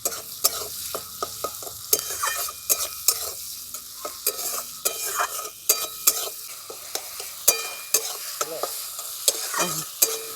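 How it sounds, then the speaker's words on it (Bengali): Onion and tomato frying in a pan for a rui posto dish, with a soft sizzle under repeated scraping stirs of a spatula, close and moderately quiet, no talking. "একটু ভালো করে ভাজা ভাজা করে নেবো"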